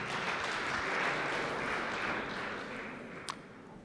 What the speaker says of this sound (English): the largest, warmest round of applause for Oppi